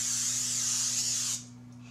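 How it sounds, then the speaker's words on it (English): A steady hiss of olive oil aerosol spray onto a parchment-lined baking sheet runs for over a second and then cuts off, leaving a low electrical hum underneath. "then lightly spray it with olive oil."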